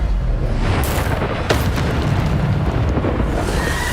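Bombarda spell blast in the Hogwarts Legacy video game: a loud, dense explosive boom with a sharp burst near the middle, rumbling continuously throughout the clip.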